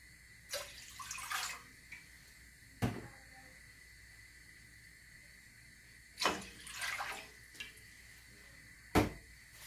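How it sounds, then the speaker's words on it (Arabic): Water is poured into a cooking pot on the stove as the first step of a sugar syrup for halawet el jibn, heard as a few short, splashy bursts separated by quiet pauses, fairly close and moderately soft. "نحط 3 كاسات المي"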